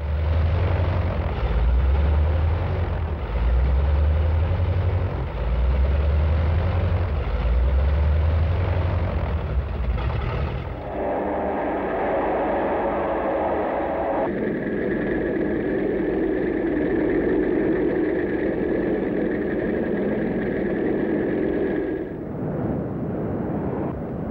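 A WWII carrier warplane's piston engine runs steadily on deck before takeoff, a loud continuous drone with pulsing low throb that shifts to a rougher, higher roar midway.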